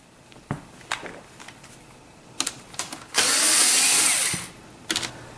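Power driver removing screws from the climate control bezel inside a Ram truck, with a few short clicks and clatters, then one loud, close whirring burst of about a second and a half.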